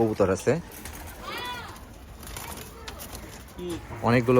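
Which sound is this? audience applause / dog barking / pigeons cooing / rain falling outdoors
pigeons cooing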